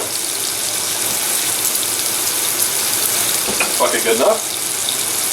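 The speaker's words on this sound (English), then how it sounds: "I need 1 cup of cold water" Cold water running from a kitchen tap into a cup, a steady close rushing hiss throughout with a brief spoken remark near the end.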